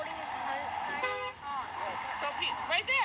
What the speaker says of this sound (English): So people honk and make noise.